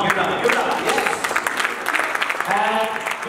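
Audience applause at an anchored stage event, a loud dense burst of clapping with a voice over it, rising and falling in waves across the short stretch.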